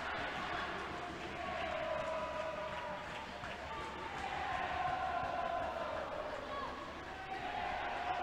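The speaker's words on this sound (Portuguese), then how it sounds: "A torcida do Palmeiras grita festa no chiqueiro" Palmeiras supporters chanting in the stands at an under-10 futsal match against Santos, a steady massed crowd roar with rhythmic vocal swells throughout, no clear break.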